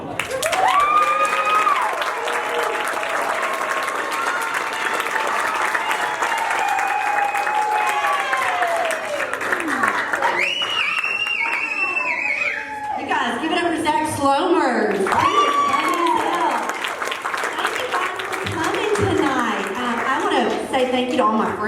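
A comedy-show crowd at The Vapors in Hot Springs breaks into steady, loud applause and cheering for comedian Kelly Collum, a dense wash of clapping that holds for about twenty seconds with voices mixed in.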